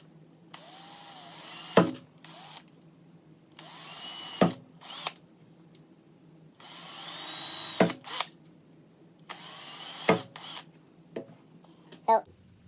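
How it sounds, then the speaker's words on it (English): A power drill bores holes in plastic bottle caps in short bursts of high whining, about five spurts separated by pauses, each closing with a clack, while a person talks between them. "I'm going to drill 2 holes in each of these caps."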